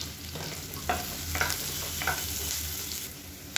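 Large onions, with a little salt, stirred and frying in oil in a pan, a steady close sizzle broken by a few spoon scrapes and stirring knocks.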